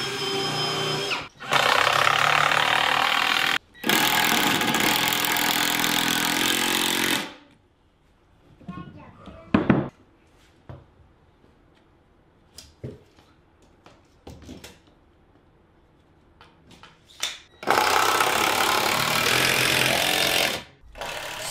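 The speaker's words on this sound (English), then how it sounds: "on the edge of a 2x4 like this, I always like to drill and countersink so that we prevent any possible splitting" A power drill boring and countersinking into the edge of a 2x4, then driving screws, several loud close whirring bursts separated by quiet pauses with small clicks and handling noises.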